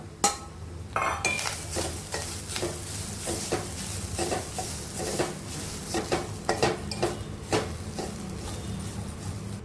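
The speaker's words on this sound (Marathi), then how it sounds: "त्यात थोडंसं नारळाचं चव टाकूया आणि चव जरा थोडा परतून घेऊया आपण तुपावर" Grated coconut is sautéed in ghee in a pan alongside almond slivers, with a soft background sizzle and repeated scraping, clinking stirs of a spoon against the pan at an irregular rhythm, close up.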